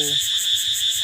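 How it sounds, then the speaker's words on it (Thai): Cicadas buzz steadily outdoors in a rural Thai village setting, a dense high-pitched pulsing drone that stays loud and continuous throughout, with a brief low voice-like tone at the very start. "เสียงจักจั่นเลยน้อง"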